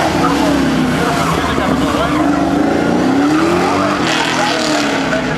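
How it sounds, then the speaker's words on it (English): A small-block 427 cubic inch hot rod on 300-series rubber launches hard from an autocross start line, engine roaring loud and close with a rising note, tire noise mixed in. "And he leaves the starting line in anger."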